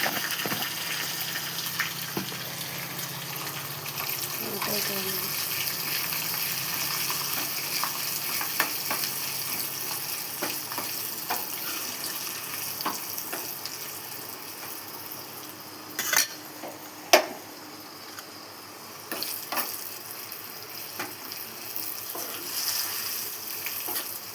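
Tadka tempering of spices with turmeric in oil, sizzling steadily in a pan for a long stretch, with occasional sharp clinks of a spoon stirring against the metal and faint kitchen clatter, no talking.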